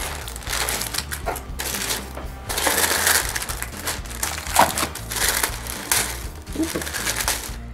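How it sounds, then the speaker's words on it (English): Tissue paper packaging being unwrapped up close, with continuous crinkling, rustling and crunching in irregular bursts, some sharper crackles standing out. "so you wouldn't have to listen to the packaging as much"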